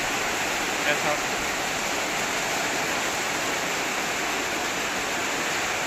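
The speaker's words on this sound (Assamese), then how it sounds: "নদীৰ দৰে এটা পানী বৈ গৈছে" Rainwater rushes along like a river during a heavy thunderstorm in Upper Assam, making a loud, unbroken roar. Someone speaks briefly over it.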